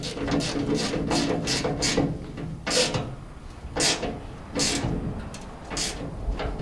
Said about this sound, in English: here's the only one you got to use the ratchet on